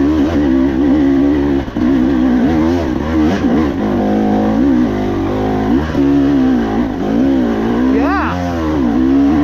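A 2024 KTM 300XC-W two-stroke dirt bike with a TSP head and ECU tune accelerating hard up a hill in second gear on stock gearing. The engine is close and loud, revving and surging with a brief shout.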